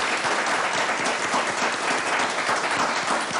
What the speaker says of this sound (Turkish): İşte onlara da bir alkış gelsin onlardan